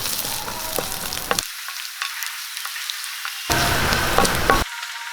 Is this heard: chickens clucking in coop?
no